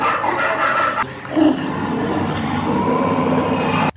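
Dogs bark within a film's soundtrack playing in a cinema, heard as a muffled room recording with a brief louder yelp near the middle, set against a steady wash of film sound.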